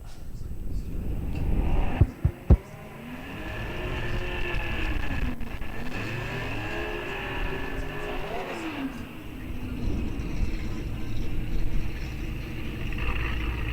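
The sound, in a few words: drag racing cars, ZL1 Camaros running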